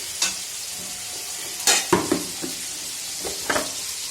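Malabar spinach and spices frying in a pan, with a continuous sizzle broken by several sharp spatula scrapes and knocks against the metal, close up and no voices.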